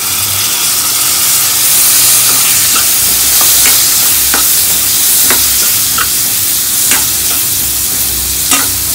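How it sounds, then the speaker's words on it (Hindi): Tomatoes sizzle steadily in a hot pan for a vegetable curry of potatoes and long beans, with a continuous frying hiss broken by a series of sharp spatula scrapes and stirring clicks at irregular intervals, close and fairly loud. "टमाटर को हम तब तक भूनेंगे जब तक ये सॉफ्ट ना हो जाए"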